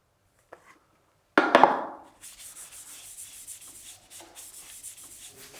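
After a brief knock, a cloth wiping sanding sealer onto finely sanded wood rubs steadily across the surface with soft, continuous swishing strokes, close and fairly quiet.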